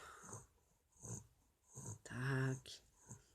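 A small puppy breathes in soft, quiet snuffles and then lets out one short, low growl close to the microphone, with someone speaking softly around it.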